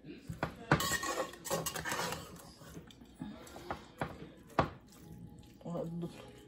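Vegetables for an aloo methi gajar matar sabzi (potato, fenugreek, carrot, peas) are stirred in a pan, with repeated scraping clatters and metallic clinks, fairly close, under intermittent talk.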